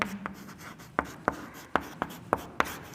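Pen or chalk writing out trigonometry identities on paper or board, with seven or eight sharp, evenly spaced strokes and taps close up, no speech over them.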